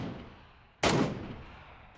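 A Mk14 rifle firing in PUBG on Xbox One X: one sharp, loud gunshot cracks out after a quiet stretch, then its echo trails away.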